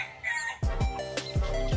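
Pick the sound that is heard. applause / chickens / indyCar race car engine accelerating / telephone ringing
chickens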